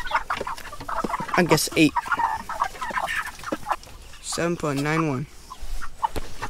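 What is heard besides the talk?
Cornish Cross broiler chicken clucking while being weighed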